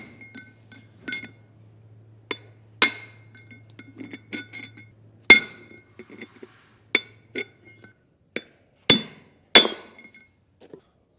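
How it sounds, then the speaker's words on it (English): A hammer strikes a punch to drive a bearing race out of a 2022 Forest River Rockwood Geo trailer hub, giving sharp metallic clinks at irregular intervals, about a dozen blows, close and clear with quiet gaps between. "Get your punch to grab onto that and start hammering."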